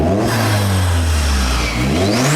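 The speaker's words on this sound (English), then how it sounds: "Let me rev the car to show you what it sounds like." A Vauxhall Astra VXR with an aftermarket recirculation valve revs hard, its engine note climbing and then falling in a loud, close sweep of rising and dropping tones over about two seconds with no talking.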